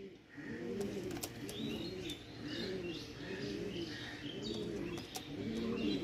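Punjabi carrier pigeons coo nearby in a steady, repeating rhythm of soft rolling calls, with a few thin chirps mixed in and no talking.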